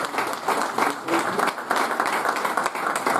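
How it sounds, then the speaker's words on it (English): A crowd at a cricket club awards night gives a sustained round of applause, dense and even, with many hands clapping together in a lively, continuous wash. "Ladies and gentlemen, can we give another round of applause?"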